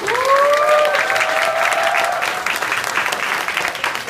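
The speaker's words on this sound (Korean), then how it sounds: "밴드분들께 네, 감사드린다는 말씀 네, 박수 한번" A concert crowd at a charity show in Apgujeong applauds, with steady clapping and a few scattered cheers, while a fading sustained tone from the stage hangs in the first seconds.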